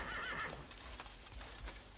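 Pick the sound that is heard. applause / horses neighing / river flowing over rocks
horses neighing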